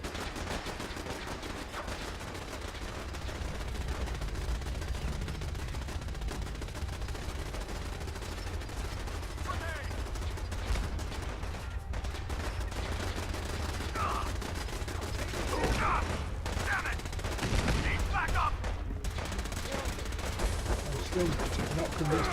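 Gunfire crackles through a Fallout 4 battle at Bunker Hill: a steady wash of distant shots and bursts, with sharper, louder volleys near the end over a low rumbling background, and voices faintly mixed in.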